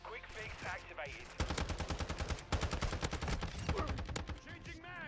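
Rapid automatic gunfire from a Call of Duty shooter match, dense bursts of loud, close shots rattling over several seconds, with brief game voice callouts at the start and end.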